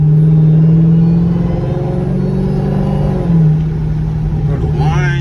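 A Dodge Durango Hellcat pulls hard under acceleration, its loud, close engine roar droning steadily with a supercharger whine layered on top and a brief dip in pitch partway through.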